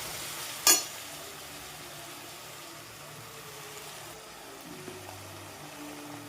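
Garam masala and chili powder fry in oil for vegetable pulao, a soft, steady sizzle close by, broken by one sharp clack near the start.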